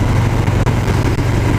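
A 2018 Harley-Davidson Fat Boy 107 motorcycle engine runs steadily with a deep, even rumble, close and loud, with no voices.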